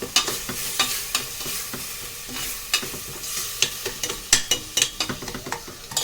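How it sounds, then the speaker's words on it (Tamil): A spoon scrapes and stirs mutton in a pot for nombu kanji, breaking up the meat with repeated sharp clinks and scrapes over a soft sizzle, close and steady, with no talking. "கட்டி விடாமல் அதை மட்டனை வந்து உடச்சி விட்டுக்கிட்டே இருக்கணும்"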